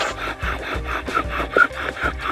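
Bow drill spinning a wooden spindle against a wooden hearth board to make fire outdoors, a rhythmic back-and-forth rubbing and squeaking friction sound with regular strokes, close and fairly loud, with no talk.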